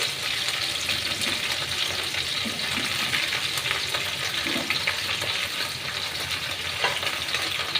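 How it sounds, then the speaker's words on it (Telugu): Sliced okra sizzles and hisses steadily in hot oil in a pan for a masala curry, a continuous close frying sound with occasional soft stirring clinks. "మొత్తం ఒకేసారి వేసుకుంటున్నానండి, ఎందుకంటే కొంచెం దోరగా ఫ్రై అయితే చాలు"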